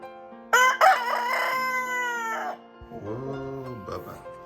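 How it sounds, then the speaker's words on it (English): A pet rooster crows indoors, a loud, close cock-a-doodle-doo with a rising harmonic call followed by a lower, drawn-out second crow, alone with no talking. "does most of his morning crowing"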